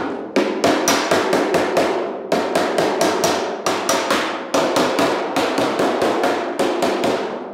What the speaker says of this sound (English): So when you're hearing that dull sound as I'm hammering,